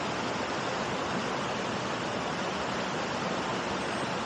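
Cold river water rushing steadily around a man wading across while carrying his bike, a broad continuous wash of flowing water with no voices.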